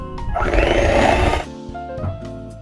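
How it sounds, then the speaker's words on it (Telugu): An electric blender whirs steadily for over a second while mixing sponge cake batter, then cuts off, leaving quieter kitchen background sounds. "ఇది ఇంకొక 2 మినిట్స్ ఇట్లనే బ్లెండ్ చేయాలండి, బాగా మిక్స్ అవుతుంది."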